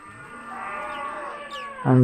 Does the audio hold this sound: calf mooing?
yes